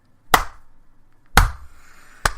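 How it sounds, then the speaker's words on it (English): Three slow, deliberate hand claps ring out alone in a quiet room, each a crisp, close smack followed by a short decaying tail, spaced about a second apart. "Slow clap."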